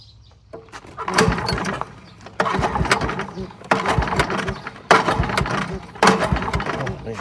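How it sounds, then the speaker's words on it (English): An old Kohler engine on a Goodall Start-All that had sat unused for many years, pull-started by recoil after carb cleaner: five separate bursts of sputtering, rattling cranking, each about a second long and fairly loud, with short pauses between. "Recoil don't sound great, does it?"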